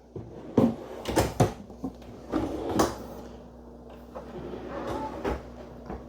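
Drawers in an RV travel-trailer kitchen slide open and shut several times, each with a short woody thump and rattle, close by in a quiet room.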